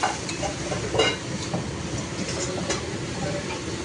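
Grated carrots sizzle in a pan for halwa, a steady frying hiss with occasional scraping strokes of a spatula stirring them.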